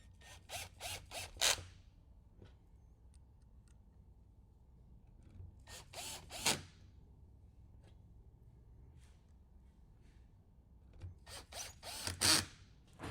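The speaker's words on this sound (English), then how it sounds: "then we will install the 4 screws holding the steering wheel controls back on" A screwdriver drives the four screws back into the steering wheel controls of a third-generation Toyota Tacoma, heard as three short bursts of rapid ratcheting clicks separated by quiet pauses, close and fairly faint, with no talk.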